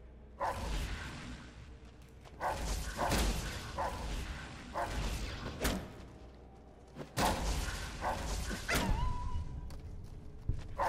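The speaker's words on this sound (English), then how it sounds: "Doggies!" Dogs bark in Fallout New Vegas, loud repeated barks and yelps coming in quick bursts over a busy, whooshing game soundscape with no talk.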